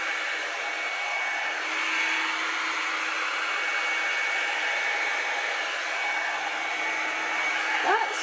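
A Revlon One Step hair drying brush runs with a steady, close airy whir, a continuous blowing hiss with a faint motor tone throughout, briefly shifting near the end.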